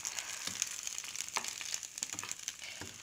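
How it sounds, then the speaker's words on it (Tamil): Hot tempering hits a bowl of onion chutney, giving a faint, soft crackling sizzle with scattered small pops and light stirring, heard alone and quietly. "இப்போ அந்த தாளிச்சு வந்து இந்த சட்னியில் கொட்டியாச்சு"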